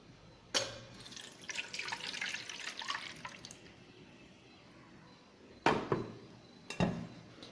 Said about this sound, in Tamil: இதில் நம்ம வாட்டர் மிக்ஸ் பண்ணிவிட்டு இது போல் ஸ்ட்ரைனர் வச்சு நம்ம இதை வடிகட்டிடுவோம்.